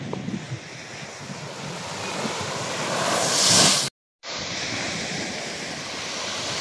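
Ocean surf rolling onto a beach in Bataan, a steady broad wash of breaking waves with wind buffeting the microphone, building to a louder crash before a brief dropout, then the continuous roar resumes.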